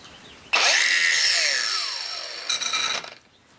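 An angle grinder grinds a bevel onto a steel hitch pin turned by hand: a sudden loud, high whine starts, holds steady and slowly fades, then gives a short rattling flutter before cutting off.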